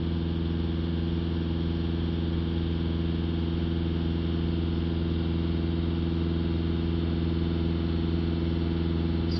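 A VW Touran 2.0 TDI diesel engine idles steadily during blocked DPF cleaning, a loud continuous low drone with strong engine harmonics and no change in pace, heard alone.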